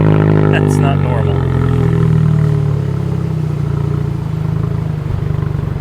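A small Toyota's engine idles and revs loudly with a cut exhaust, giving a harsh, rough, droning rumble that runs throughout, close by, while people talk over it.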